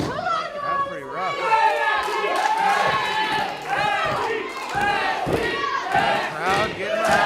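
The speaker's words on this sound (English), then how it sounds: "Crowd getting behind Miss Dyslexia" At a wrestling event, a lively crowd cheers and shouts in overlapping high-pitched voices and chants, loud and sustained throughout, with some rising surges of excitement.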